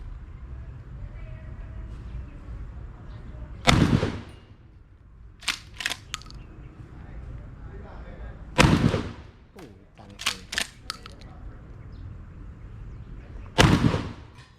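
A 12 gauge shotgun fires three loud, sharp blasts spaced several seconds apart, each followed by the clack of the action being cycled, with low background noise between shots.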